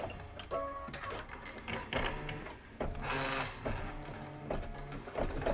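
A sewing machine working a quilting stitch runs in rhythmic mechanical bursts of rapid needle clatter, close and steady, with short pauses between runs and no talking.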